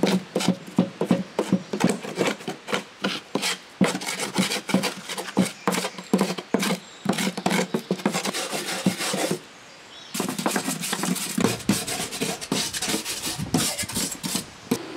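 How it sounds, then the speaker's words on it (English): Grass being scraped and rubbed off the underside of an Efco mower deck, a dense run of rasping, scrubbing strokes that carries on steadily for the whole stretch with only a brief pause, and no talking. "I'm now just going to clean off all the grass."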